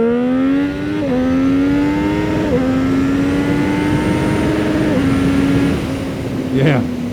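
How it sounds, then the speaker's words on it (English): A Triumph Street Triple motorcycle revs hard up through the gears, each pull climbing to the rev limiter before dropping with a shift, loud and close, with wind noise under it. "in that run, you can hear me hitting the rev limiter a couple times"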